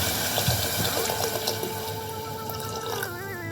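Water pours into a pot of mixed vegetable soup seasoned with pepper, a steady close splashing stream that runs throughout, alone with no voices.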